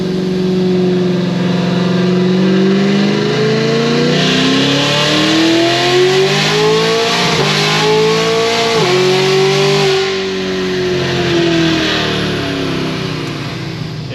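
A car accelerates hard from third gear with an automatic transmission upshifting through to fifth, the loud engine drone climbing in pitch, dropping briefly at each shift, then climbing again before settling into a steady cruise.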